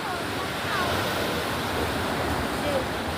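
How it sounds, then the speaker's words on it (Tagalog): Big ocean waves breaking at a beach in Alicia, Bohol, during strong monsoon wind, a loud continuous roar of surf with wind buffeting the microphone. "Grabing alon."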